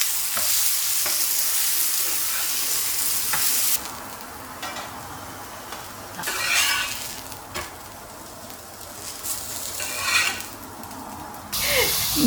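Bean burger patties sizzle and crackle steadily in a hot oiled grill pan, with occasional louder hissing bursts and scraping; no voices.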